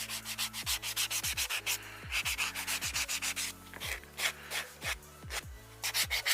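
A nail file rubs back and forth over acrylic nails to smooth the edges, giving quick rhythmic rasping strokes in steady runs with brief pauses, close up over a low, intermittent background tone.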